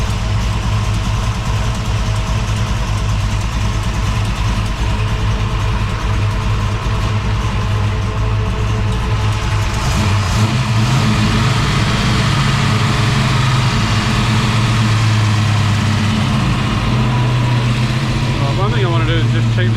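A Holden HT Monaro engine idles steadily with a deep, low rumble throughout, a few voices talking faintly over it, and the note shifting slightly partway through.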